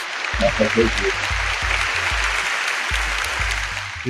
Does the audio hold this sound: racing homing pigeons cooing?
no